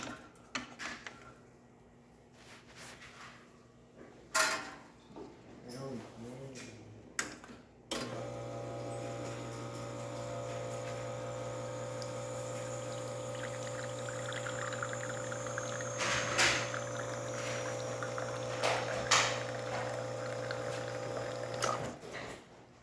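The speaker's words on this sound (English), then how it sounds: "let's go ahead and test it and make an espresso shot." A Lelit Bianca espresso machine pulls a shot after a group head tune-up: a steady pump hum with a low drone starts partway in and runs to the end, with light clicks and faint trickling over it.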